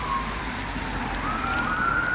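An ambulance or police siren on a busy road, a wailing tone rising steadily, moderately close and heard alone without talk.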